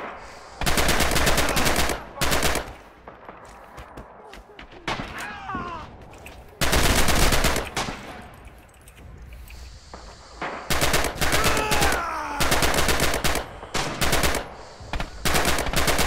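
Automatic weapon fire in the Red Orchestra 2 bridge-defence battle, loud sustained machine-gun bursts alternating with quieter gaps where distant shots and ricochets carry on, repeating several times.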